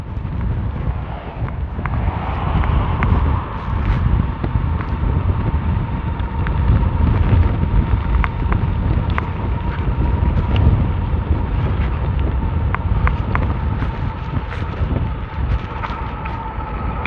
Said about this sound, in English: And wind gusts are hitting me in the chest.